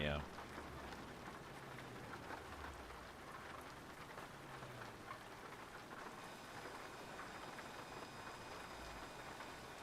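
Steady rain patters on a truck cab in Euro Truck Simulator 2 during an early-morning drive, a soft continuous hiss at low level with brief faint talk near the start.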